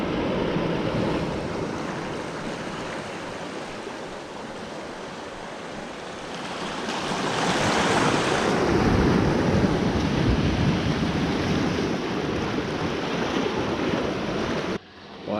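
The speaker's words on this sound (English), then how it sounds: "Big swell coming in." Ocean waves break on the shore as a big swell rolls in, a steady roar with wind noise on the microphone, swelling louder midway as a larger surge washes up, heard close on a bass fishing coastline.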